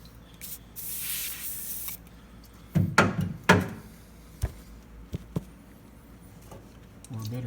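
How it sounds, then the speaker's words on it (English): WD-40 aerosol sprayed onto a broken exhaust manifold bolt on a Chevy Tahoe 5.3 Vortec engine: one steady hiss lasting about a second, followed by a few loud metallic clunks and taps from the can and tools. "a little WD-40 on the bolt"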